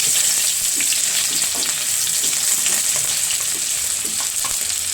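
Onions for upma fry in a pan after mustard seeds have popped in the oil. The sizzle is loud and unbroken, with a bright hiss and scattered small crackles throughout.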